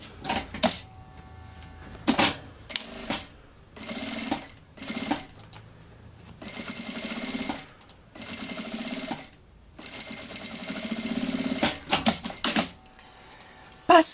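A sewing machine stitches bias tape along the lower edge of a zipper on a child's backpack, running in close, loud bursts of rapid stitching separated by short pauses.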